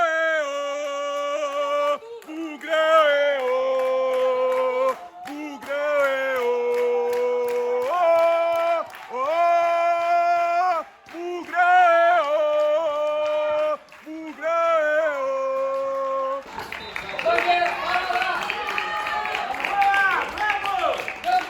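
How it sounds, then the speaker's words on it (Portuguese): Audax supporters shout from the stands at a women's football match against Guarani in Osasco. Someone talks over it at first, then a louder, dense wash of crowd noise takes over near the end. "A torcida do Audax aqui tá gritando."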